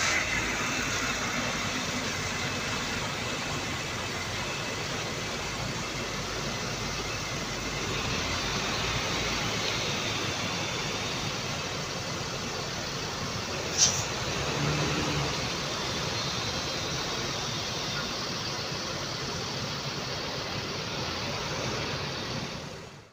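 An NPM bus engine idling at the Simpang Raya roadside restaurant in Bayung Lencir, Jambi, a steady low rumble heard from a distance, with a single brief knock partway through.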